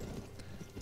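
Horse hooves clip-clop in the Western video game GUN, a quick, faint burst of rhythmic hoofbeats lasting under a second.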